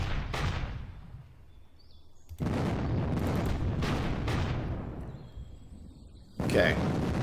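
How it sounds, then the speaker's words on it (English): Mortar and heavy gun fire in the Panzer Campaigns wargame, several deep booming blasts with long rumbling decays, loud and spaced a second or two apart, alone without talk. "we got some even more heavy guns here. Don't like these mortars."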